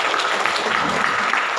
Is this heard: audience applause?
yes